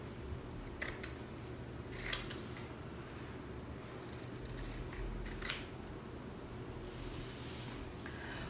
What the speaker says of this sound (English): When I trim, since I'm right-handed, I like to have what I'm cutting away on the right side of the blades